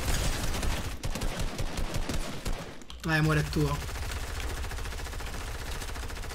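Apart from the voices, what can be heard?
gunfire in the video game Fortnite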